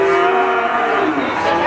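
Cattle at a livestock market low in a long, loud, sustained moo, with a dense crowd-like murmur in the background.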